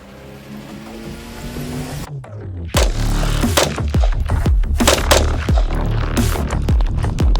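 Rapid gunshots from a Palmetto State Armory JAKL rifle fired at targets outdoors, a string of sharp, loud, closely spaced cracks after a quieter mechanical lead-in.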